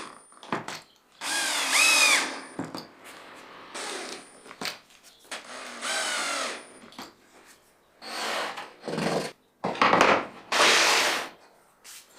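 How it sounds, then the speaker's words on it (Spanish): A power drill drives screws into plywood to fasten glued vertical braces, firing off in a string of short, loud whirring bursts separated by brief pauses. "los estoy asegurando con tornillos en lugar de sujetarlos con abrazaderas"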